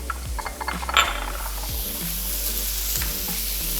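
Tomatoes go into a sizzling pan for fish tikka with a clink and a burst of frying, then a steady close sizzle continues with occasional low thumps and knocks of the pan.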